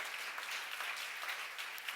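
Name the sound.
congregation applauding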